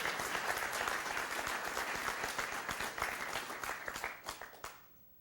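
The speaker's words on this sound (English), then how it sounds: "We all owe her a big round of applause for all of her work." Audience applauding for Anais, a contributor being thanked at a humanities talk: dense, steady clapping from a crowd at full level for about four seconds, then thinning to a few scattered claps and fading out.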